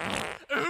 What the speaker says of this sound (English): Oops! Sorry, I just farted.